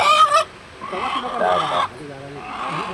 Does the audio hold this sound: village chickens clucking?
yes